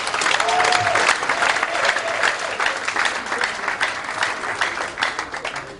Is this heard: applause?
yes